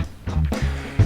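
A short stretch of audio run through the Airwindows Facet plugin, which adds a peaky, amplitude-dependent edge: punchy low tones start and stop in choppy bursts over about a second, with no speech.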